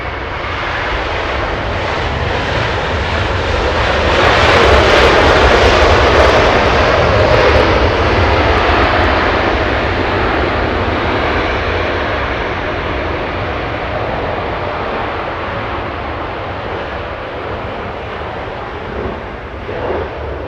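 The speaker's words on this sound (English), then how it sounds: "We have Philippine Airlines coming in at 777 flying in from Manila." A Philippine Airlines Boeing 777 comes in from Manila to land at Los Angeles International Airport. A loud, deep jet engine roar peaks early and then settles into a steady, slowly fading rumble.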